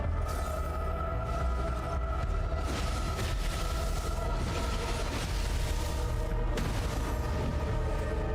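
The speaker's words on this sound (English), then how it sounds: "Oh, a big explosion." A big explosion in the video game AI Limit produces a dense, sustained roar with repeated booming bursts, loud throughout and without any voices.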